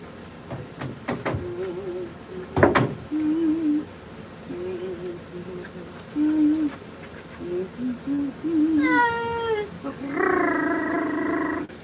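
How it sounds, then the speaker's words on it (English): A Maine Coon cat gives repeated low, drawn-out mournful meows during a bath, some short and some longer, ending in a louder wavering call, with a few knocks and splashes nearby. "Her little mournful meow."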